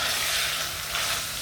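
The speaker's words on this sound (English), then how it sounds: "It actually sounds like it's frying rather than boiling" Beef mince frying in a pan for a cottage pie, giving a steady, close hiss and sizzle throughout with no voices over it.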